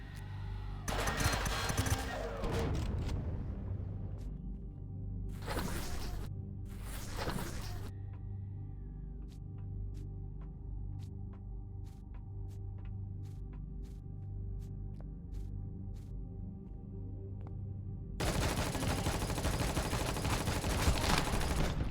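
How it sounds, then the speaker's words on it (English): Sniper rifle fire in the Empyrion video game comes as a few sharp, close cracks and bursts over a steady low game hum, followed by a scatter of faint distant shots. "They got another shot off on me."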